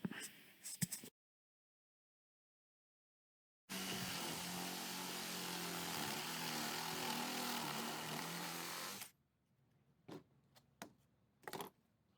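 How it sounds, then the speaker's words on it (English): A steady, loud drilling whine as a spade bit bores through wood for about five seconds, preceded by brief clicks and followed by a few sharp knocks and taps. "spade bit to drill a hole in the center of all 3 hexagons"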